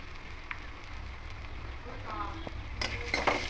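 Vegetarian banana flower curry with grated coconut and sugar is stirred in a hot pan, a soft scraping and shifting over a steady low sizzle, with a brighter clatter near the end.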